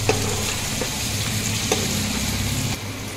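Chopped ingredients frying in a pan for potato dum, stirred now and then, giving a constant close sizzle with a few soft scraping taps and no talking.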